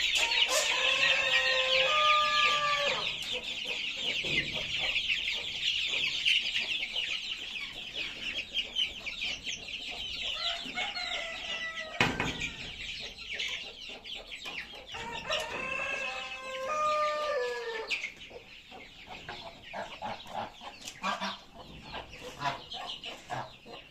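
Chickens cluck and a rooster crows on a farm, with several loud crowing calls in bursts over a continuous background of clucking.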